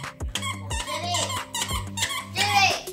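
A squeaky football dog toy squeaked in quick repeated bursts, shrill and close, with a voice and giggling mixed in.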